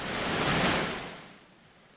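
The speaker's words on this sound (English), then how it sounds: "While the vibration of the water in the waterfall is strong," Broad rushing roar of falling water that swells, then fades away toward the end.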